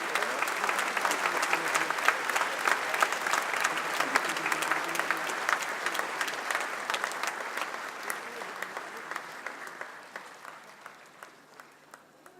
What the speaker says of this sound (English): Let us show our appreciation once again by extending another round of applause to President